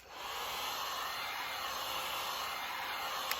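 A heat gun warms carbon fiber vinyl wrap on toolbox drawer tops, giving a steady, even blowing hiss that holds unbroken at moderate volume throughout, with no talking.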